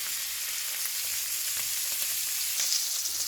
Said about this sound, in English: See, the trick is I'm cooking my steaks to a medium.